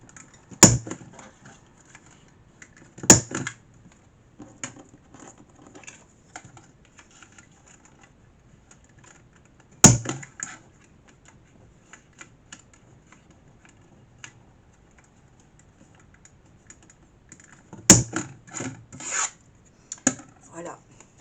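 A corner rounder punch cuts the corners of paper for a scrapbook album, giving a few sharp, well-spaced punch clunks with faint paper handling sounds in between and no talking.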